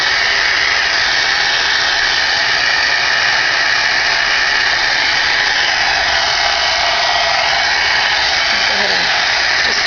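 A heat tool blows hot air onto the back of colored paper, a loud continuous whirring roar held steady for about ten seconds.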